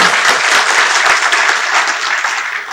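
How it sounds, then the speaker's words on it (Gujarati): An audience at a Thursday talk bursts into loud, steady applause, dense clapping that holds for several seconds before easing slightly. "એને જોરદાર તાળીથી વધાવ્યો."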